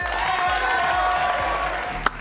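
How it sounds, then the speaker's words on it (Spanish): Warm applause from a television studio audience, steady dense clapping that fills the whole moment without pause, with a sharp single click near the end. "El aplauso cariñoso para ellos."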